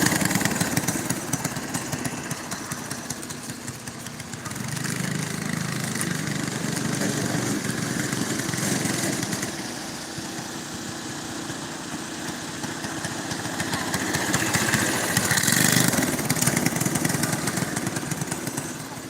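Go-kart engines racing at a short dirt track in Hanceville, Alabama, a continuous buzzing drone of small engines swelling and fading as karts pass, heard from a distance without talk.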